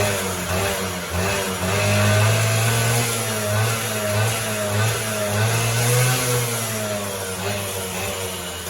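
A Honda Elite 50 49cc scooter engine runs steadily at moderate volume, its buzzing drone wavering slightly in pitch, with the light metallic ring rattle typical of this two-stroke scooter mixed into the tone.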